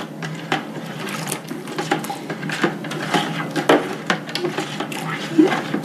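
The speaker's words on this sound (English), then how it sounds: "you would stir it up really, really good, all your soap mixture" Homemade liquid laundry soap mixture in a bucket is stirred with a grill spatula, giving repeated scraping, clacking knocks and sloshing in an uneven rhythm, close by, with a few brief spoken words.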